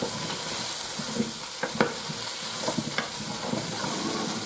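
Spinach and potatoes fry in a little oil, a steady close sizzle broken by scraping stirs and a few sharp clicks of a utensil against the pot.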